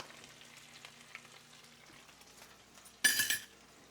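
Cabbage fries quietly in a small skillet with a low sizzle, then a short, loud burst of frying hiss and clatter near the end.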